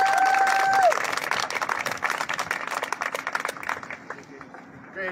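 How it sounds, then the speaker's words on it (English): A crowd at a rally against prison gerrymandering in Connecticut gives a round of applause, with a whistle cutting through at the start, then scattered clapping that gradually thins out. "Well deserved round of applause."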